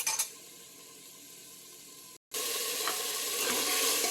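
Ginger, garlic, tomato and vegetables sautéing for vegetable biryani, a soft steady sizzle that cuts out for an instant and then returns louder and brighter.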